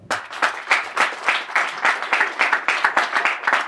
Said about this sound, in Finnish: annetaan nyt kuitenkin yhdet aplodit